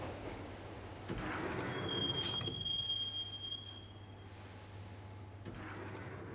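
A subway train rides along in the Max Payne game, rumbling low under a rail hiss, with a thin metallic wheel squeal rising in the middle before the clatter settles back to a steady roll, and no voices.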